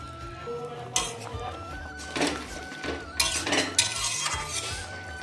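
Pre-fried fish pieces going into a pot of drumstick vegetable and potato curry, with several clanks and clinks of a utensil against metal and a few soft splashy bursts, close and fairly quiet, no voices.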